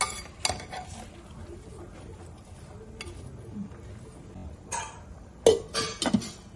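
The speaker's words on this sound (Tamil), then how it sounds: "ஊற்றிட்டு நல்லா கிளறிட்டு மூடி வச்சிடலாம்." A utensil scrapes and clinks against a pot of aviyal vegetables, with scattered sharp metallic knocks and a lid clatter near the end, all close by.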